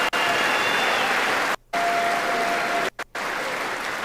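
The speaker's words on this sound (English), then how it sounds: "They kept getting him standing ovations every few words, folks." Members of Congress giving Benjamin Netanyahu a standing ovation in the House chamber, a dense, loud wash of sustained clapping cut by two or three brief sharp breaks.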